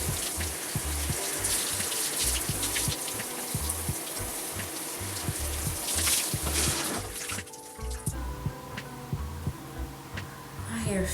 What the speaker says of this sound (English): I'm about to rinse this out right now.